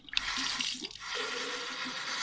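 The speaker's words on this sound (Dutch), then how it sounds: "Hier ga ik water in doen" Water from a tap poured into a water bottle, heard close as a short gurgling trickle and splash that settles into a steadier fill, with no talking.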